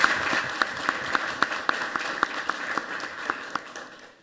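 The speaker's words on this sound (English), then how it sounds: "So first, a round of applause for our new." Applause from an audience at a village board of trustees meeting welcoming new trustees, a steady patter of many hands clapping in a room, moderately distant, fading at the end.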